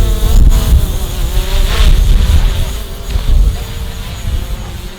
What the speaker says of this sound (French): j'ai un drone qui permet de faire des scènes cinématographiques